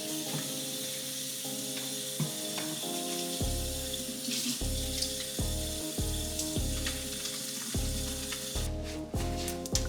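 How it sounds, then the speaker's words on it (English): Hands are washed under a running kitchen faucet, with water streaming and splashing close by over a faint background of stepped tones, and no one speaks. "The first thing that I'm gonna do, obviously, is wash my hands"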